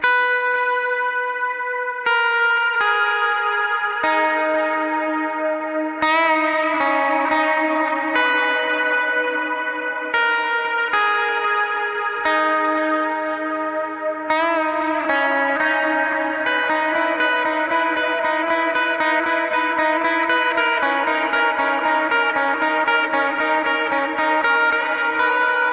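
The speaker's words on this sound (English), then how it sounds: "those trails with the reverb sound really good" A clean electric guitar preset on a Mixwave Spiritbox Mike Stringer plugin plays a flowing melodic phrase, each note ringing out into long, lush reverb trails that blend together.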